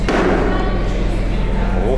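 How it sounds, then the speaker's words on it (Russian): One heavy foot stomp on the floor lands as a brief, dull thud right at the start, then gives way to loud, steady background noise. "Ух, как топнуло."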